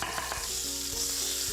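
Goat meat for kleftiko browning in a hot pan, a loud, steady sizzle and crackle with occasional pops, close up and with no talking.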